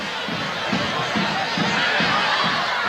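Stadium crowd at a 1999 Colombia vs Chile football match, a steady roar of massed voices and cheering that swells slightly in waves, heard from a distance and filling the whole moment without clear individual words.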